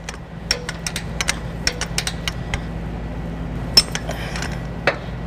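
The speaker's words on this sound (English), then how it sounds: "you're just going to wait until you hear that click like that" Metallic clicks from a torque wrench tightening a trailer hitch bolt into the frame rail of a 1988 Toyota 4Runner, sharp irregular ticks and clinks with a couple of louder snaps, heard close without talk.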